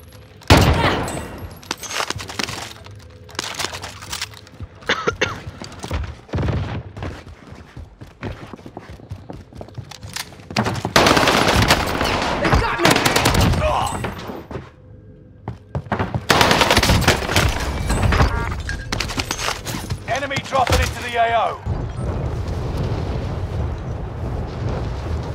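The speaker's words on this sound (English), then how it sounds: "Under fire! I'm taking fire!" Automatic weapon fire in a Call of Duty Warzone match rattles in repeated close bursts with booming explosions, filling the battle mix and pausing only briefly between volleys.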